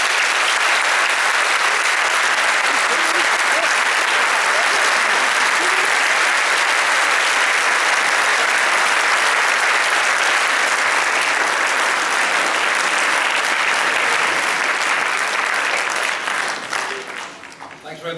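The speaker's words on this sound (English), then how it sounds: "I'd like each and every one of you to give yourselves a huge round of applause" Large audience at an awards presentation evening applauds in a loud, sustained, dense round of clapping that holds steady for about seventeen seconds before thinning out at the end.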